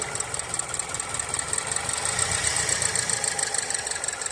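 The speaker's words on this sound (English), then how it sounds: "single cylinder misfire" A 2013 Land Rover Evoque engine idling with a single cylinder misfire, a steady close mechanical drone carrying a rough, uneven pulsing beat, with no voices.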